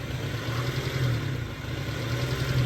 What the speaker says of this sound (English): The rough idle just came back on camera